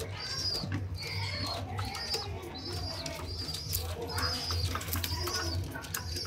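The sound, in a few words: pigeons cooing while feeding their chicks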